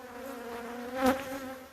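Bees buzz in a steady, close swarm around a beekeeper, the drone swelling briefly louder midway before settling back, with no voices.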